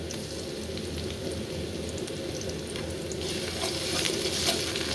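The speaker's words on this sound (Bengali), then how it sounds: "ভেজে নিই ভালো করে" Ginger, garlic and cumin paste fries in a pan before chicken goes in, a dense steady sizzle with bubbling undertones and occasional stirring clicks growing slightly busier toward the end, no speech.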